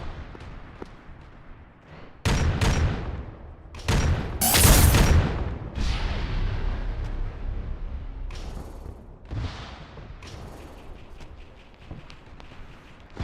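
Enemy gunfire in the military game Arma during a zombie-contact firefight; several sharp, loud booming shots and bursts stand out over quieter background rumble and rustling, spaced irregularly across the stretch.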